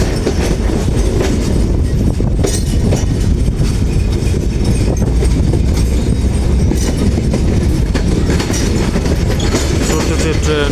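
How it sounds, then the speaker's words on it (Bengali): A train runs past at close range near the Setabganj rail crossing, with a loud, continuous rumble and rhythmic clatter of wheels over the rails that lasts the whole stretch. "এই ট্রেনটাকে আমরা এখান থেকেই বিদায় দিয়ে দিলাম।"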